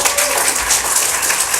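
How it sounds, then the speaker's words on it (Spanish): An audience claps in applause, a dense, steady patter of many hands, fairly loud and close, lasting under two seconds without a break. "también un aplauso."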